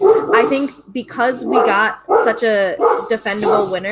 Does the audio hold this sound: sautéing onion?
no